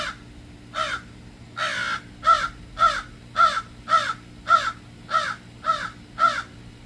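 A crow caws outdoors in a long regular series of about eleven harsh calls, evenly spaced roughly half a second apart, clear and moderately near, with no talking.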